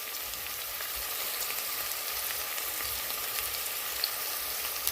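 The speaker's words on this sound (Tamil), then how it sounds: "இது நல்லா வதங்கட்டும்." Onions and masala sizzle steadily in a pan for chicken liver biryani, an even, close hiss of frying with soft crackles and no voices over it.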